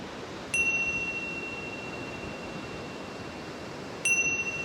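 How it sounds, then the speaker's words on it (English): Two clear meditation bell strikes ring out several seconds apart, each tone sustaining and slowly fading over a soft, steady wash of ocean surf. "when you hear the sound of the bells"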